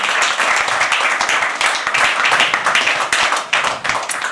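An audience claps and applauds at a live poetry open mic, a dense burst of many hands close by, steady and loud for several seconds before thinning slightly at the end.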